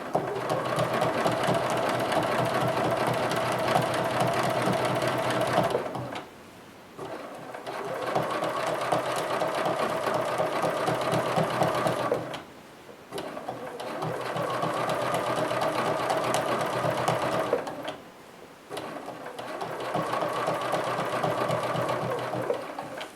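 Sewing machine quilting along a straight grid line, a loud, fast, steady stitching hum in long runs broken by three brief pauses.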